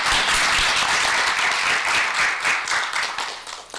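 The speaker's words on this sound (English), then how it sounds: "another round of applause?" Audience at a memorial lecture applauding after the talk, a dense, steady wash of many hands clapping that holds strong and then gradually thins and fades toward the end.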